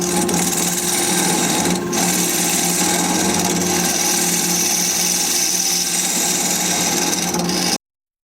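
A wood lathe spins a desert oak bowl at 1200 RPM while a carbide cutter shaves it, making a loud, steady whirring rasp with one brief dip before it stops abruptly.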